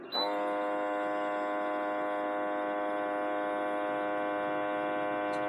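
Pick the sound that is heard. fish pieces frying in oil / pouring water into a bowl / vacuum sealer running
vacuum sealer running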